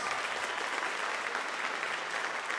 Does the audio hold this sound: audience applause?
yes